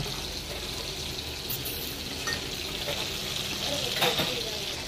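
Black fish frying in very hot oil gives a steady, moderate sizzle and crackle that runs throughout, with a slightly louder burst of spattering near the end and no talking.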